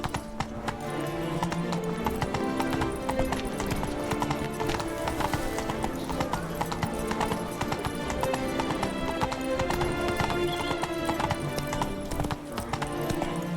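A horse gallops in The Witcher 3: Blood and Wine, its hooves clip-clopping in a fast, steady rhythm that runs loud and close throughout, with a brief whinny and game sounds layered underneath.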